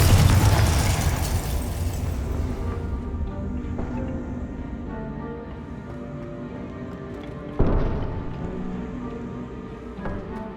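A Confringo blasting curse explodes in Hogwarts Legacy on PC, a loud close blast with crackling debris that decays into a ringing hum, followed later by a second smaller burst.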